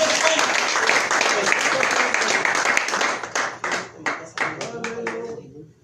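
Church congregation claps loudly during a Spanish-language sermon, the dense applause breaking into a few separate claps before fading out; voices mix in during the clapping.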